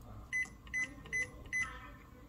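An electric rice cooker's control panel beeps as a cooking mode is chosen for sticky rice: four short, evenly spaced electronic beeps over a low background hum.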